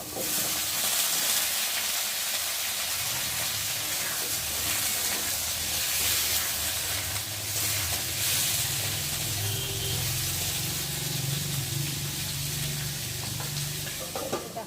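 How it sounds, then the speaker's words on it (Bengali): Onions and cut potatoes frying in a pan give a steady, close sizzle and hiss, with occasional stirring scrapes running underneath throughout, and no talking. "পেঁয়াজটা একটু ভেজে নেব লাল লাল করে ভাজার পরে কেটে রাখা আলুগুলোকে দিয়ে একটু ভালো করে"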